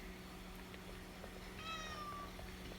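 A single faint cat meow rises briefly over a low steady hum and background hiss.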